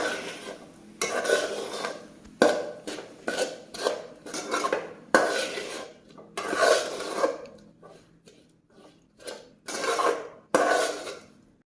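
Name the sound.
sautéing chicken in a pan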